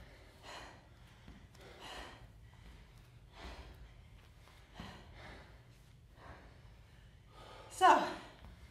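Heavy breathing after a home workout, a series of loud panting exhales spaced a second or so apart, close to the microphone, ending with a sharp, louder gasp.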